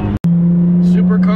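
An Acura NSX sports car driving up a ramp, its engine giving a steady loud drone with a brief dropout near the start, while a person talks over it.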